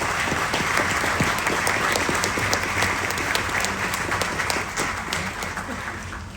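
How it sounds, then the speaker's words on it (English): Audience applause at a hotel groundbreaking ceremony, a dense, steady crowd clapping that holds at full strength, then begins to taper off toward the end. "Let's give them a round of applause"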